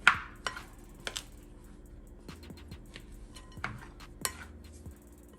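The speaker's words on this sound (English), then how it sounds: "I just want to mash it, get it mashed as good as I can" Baked potato being mashed in a bowl, giving a few sharp clinks and scrapes of utensil against the bowl spaced irregularly among softer squishing knocks, close up with no talking.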